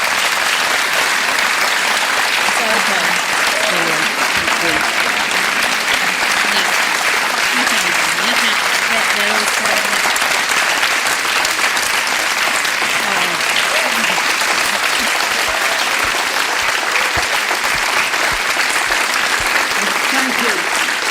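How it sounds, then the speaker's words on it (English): Sustained audience applause at a church gathering fills the whole stretch, dense and loud, with voices talking faintly underneath. "Let's give Averil a round of applause, shall we?"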